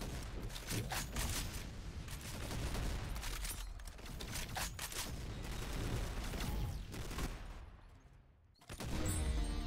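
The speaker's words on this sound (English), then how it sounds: "This is basically a slug gun. Slug shotgun." Repeated heavy slug shotgun shots boom in a Roblox shooter, a steady run of loud blasts over busy game noise, briefly cutting out before a final shot.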